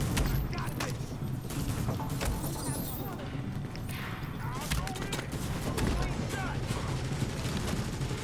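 Scattered gunfire from shotgun-wielding enemies in The Division, shots crackling at moderate distance over a busy battle bed, with a player talking over the fighting.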